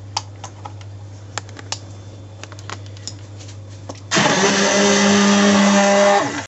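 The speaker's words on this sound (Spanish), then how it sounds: "Ahora ya lo batimos." Light clicks and taps lead into a home blender whirring loudly and steadily as it beats an egg flan mixture in a tall glass, running unbroken to the end.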